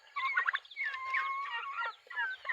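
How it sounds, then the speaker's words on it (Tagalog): Growing young turkeys gobble near and loud in rapid, warbling bursts, with several birds overlapping and short pauses between calls and no talk. "malalaki na yung pabo natin"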